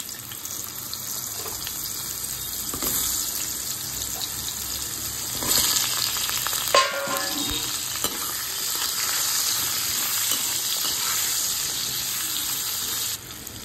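Pumpkin pieces frying in oil in a pan, a continuous loud bubbling sizzle with occasional stirring scrapes and bumps, close and sustained throughout.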